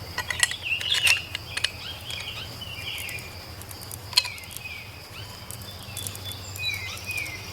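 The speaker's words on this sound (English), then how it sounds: "you just screw it until the threads are buried into the meat of the tree" A Treehopper tree step bolt is screwed by hand into a tree trunk outdoors, giving close, intermittent scraping creaks and sharp clicks over a steady low background hum.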